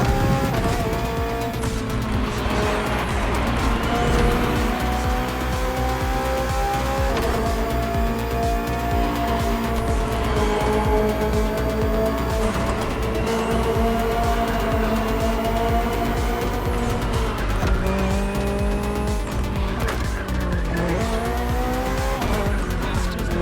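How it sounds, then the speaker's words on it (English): A BMW M Hybrid V8 endurance race car in The Crew Motorfest screams through repeated full-throttle runs, its engine note climbing and dropping with gear shifts, with tire squeal through corners, loud and close throughout. "Finally, the BMW M Hybrid V8. What a beast."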